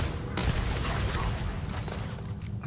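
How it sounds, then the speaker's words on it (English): A laser rifle firing on foot in the video game Starfield, a dense, continuous rattle of rapid shots filling the short moment at steady loudness. "That's a laser rifle."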